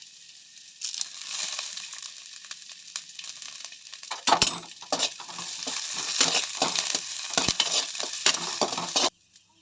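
Onion and garlic frying in oil in a pan, a bright steady sizzle broken by repeated scraping stirs, starting just under a second in and cutting off abruptly near the end, close and with no talking.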